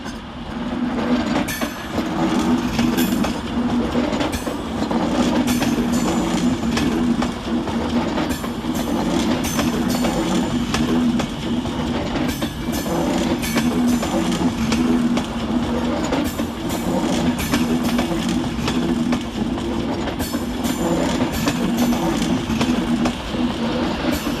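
A Class 390 Avanti West Coast train pulls out of Manchester Piccadilly, a loud, steady rumble and hiss of rolling stock with faint rhythmic wheel clatter that continues unbroken for the whole stretch, with no voices.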